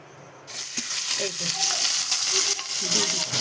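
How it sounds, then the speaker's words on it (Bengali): Bhetki fish paturi wrapped in banana leaf frying one piece at a time in hot oil in a kadai, a loud steady sizzle that swells after a quiet start, with faint scraping and light clinks throughout. "এবার এগুলোকে একটা একটা করে ভেজে নেব"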